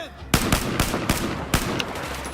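Rapid gunfire in Battlefield 4, several sharp close shots in quick bursts, loud and punchy over a background of in-game noise.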